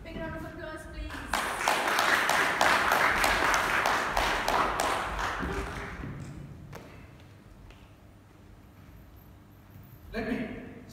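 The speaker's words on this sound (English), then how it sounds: "Big round of applause, please." Applause from an audience at a meeting swells into a dense, steady clatter of many hands for several seconds, then thins and fades, with a voice briefly heard near the end.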